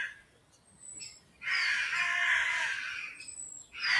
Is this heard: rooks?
yes